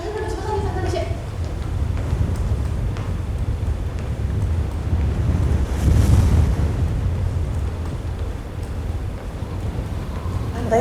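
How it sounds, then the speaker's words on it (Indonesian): Strong wind roars steadily and loudly, a continuous low rushing that swells briefly midway, with children and adults faintly audible beneath it. "Kencang sekali anginnya"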